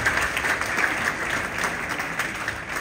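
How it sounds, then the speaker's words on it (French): Audience applause at a book fair event in Dakar: a dense, steady wash of many hands clapping that holds evenly throughout, close and fairly loud, with no voices standing out. "C'est votre applaudissement, bien sûr."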